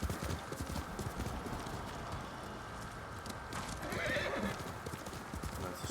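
Hooves clop steadily at close range while a horse whinnies partway through, over a low outdoor ambience, in the video game Ghost of Tsushima.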